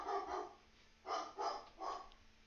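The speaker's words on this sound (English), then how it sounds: "somebody's here because my dog's barking" A dog barks five times in two groups, muffled and somewhat distant, with short pauses between the barks.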